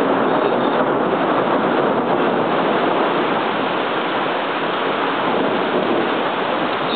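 Heavy rain falling in Texas, a loud dense unbroken hiss of downpour close by, with no voices.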